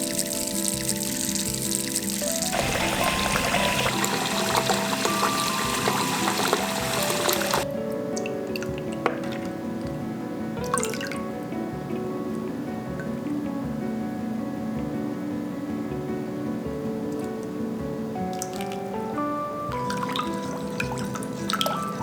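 Tap water runs steadily over lemons being scrubbed clean for a lemon syrup preserve, a continuous close trickle and splash with a denser rush in the first seconds, then a lighter flow with occasional clinks.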